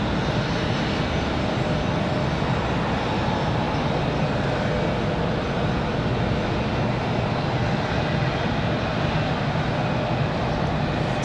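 A Republic Airways jet from Boston arrives at Raleigh-Durham International Airport on a windy day, heard as a loud, continuous broadband roar that holds steady throughout, with no voices.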